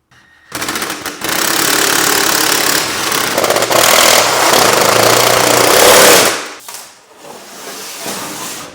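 A power tool drives bolts into an aluminum frame for a mobile detailing setup, a loud continuous whirring buzz lasting several seconds, then cutting off, followed by a quieter short burst.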